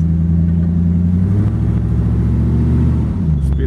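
A 1933 Ford Roadster street rod engine idles loudly and steadily with a deep, close rumble, pitch shifting slightly as the car gets underway near the end.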